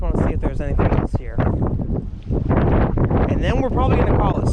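Wind gusts buffet the microphone on a fishing boat out on a lake during a spring bass tournament, a rough rumble running beneath continuous close talking.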